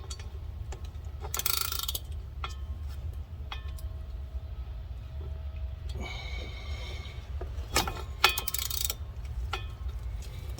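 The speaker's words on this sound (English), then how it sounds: "let's go ahead and bust these bolts loose" A ratchet works on the drive shaft bolts of a Chevy truck, clicking in short bursts separated by pauses and metallic clanks, fairly faint, with no talk.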